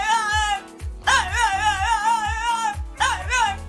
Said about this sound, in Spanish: La respuesta correcta es un perro.